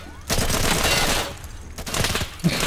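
Gunfire in the tactical shooter game Insurgency: a dense burst of rapid shots for over a second, a short pause, then another volley and a final crack, loud and close throughout.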